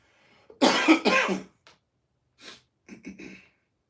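Two harsh, forceful coughs close to the microphone, followed by a short pause and a couple of weaker coughs and breaths.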